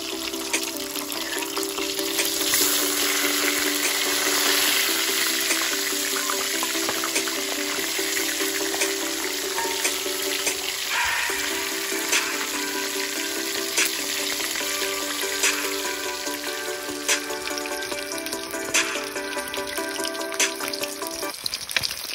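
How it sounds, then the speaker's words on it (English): Red snapper frying in oil in a pot: steady, crackling sizzle with scattered pops and spits, close and continuous for over twenty seconds, no talking. "After placing snapper in the oil, leave for 2 to 3 minutes before turning to the other side."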